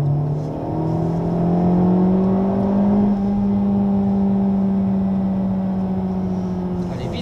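Honda Civic Type R on the Le Mans circuit, its engine holding a steady, sustained drone with a slowly rising pitch, then easing near the end.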